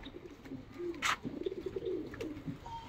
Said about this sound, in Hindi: वो देखो सारे कबूतर वहां से यहाँ आ गए